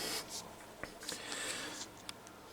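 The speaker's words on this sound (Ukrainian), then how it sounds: "Так, ну, пишемо Madden Europe" A label is handwritten with a pen, quiet close scratchy strokes in short bursts with small taps between them, faint and without speech.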